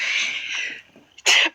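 A sneeze from a person in a hospital room lands as one sharp, loud burst near the end, after a stretch of hissing, breathy noise and a brief catch of breath.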